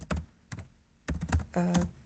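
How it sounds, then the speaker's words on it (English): Typing on a computer keyboard during an online meeting, with short bursts of close key clicks and clacks separated by brief pauses, no speech over the keys. "You will hear me typing"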